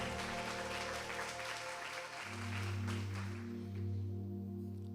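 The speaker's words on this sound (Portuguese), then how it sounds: "Aplauda o nome do Senhor." A church congregation claps during a sermon, steady but fairly quiet, while a sustained organ or keyboard chord enters partway through and holds underneath.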